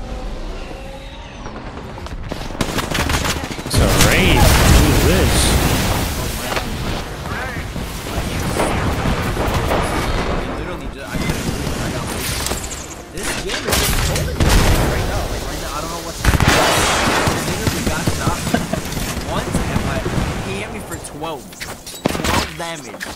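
Dense video game gunfire from shooting in Overwatch 2 or Apex Legends, repeated loud bursts and booms running throughout, mixed with a player talking over the action.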